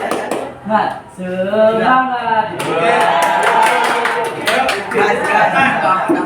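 A classroom group performs the tepuk semangat clapping routine, rhythmic bursts of hand claps joined by chanting voices, loud and close, building after a spoken lead-in.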